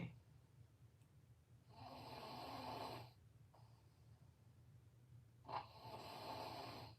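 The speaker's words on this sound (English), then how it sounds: "That's my baby snoring in the back" A baby snores quietly in the background, faint breaths rising and falling in long, slow swells over a low steady hum.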